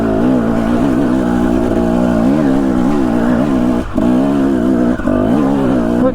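A motorcycle's exhaust rumbles loud and close with a steady droning roar that wavers in pitch, dipping briefly twice toward the end.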